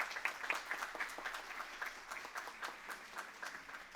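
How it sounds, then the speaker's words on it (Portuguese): Audience clapping at a formal honorary ceremony in a Brazilian legislative chamber, heard as sparse, distinct claps from a modest crowd at a fairly quiet distance, without talk. "quem gostou, pode bater palmas"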